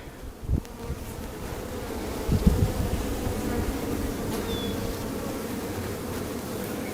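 Honey bees buzzing on a hive frame with larvae and eggs: a steady close drone of many bees, swelling slightly midway, with a couple of soft handling knocks.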